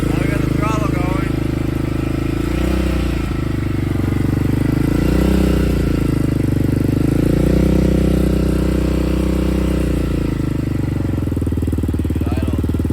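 A 2001 Yamaha Raptor 660R ATV, mid-restoration, runs close and loud, its single-cylinder engine rising and falling through several throttle blips over a steady idle, with light mechanical clatter.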